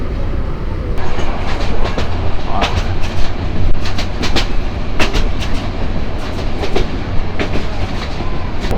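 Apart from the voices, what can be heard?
Tista Express passenger train running at speed on rails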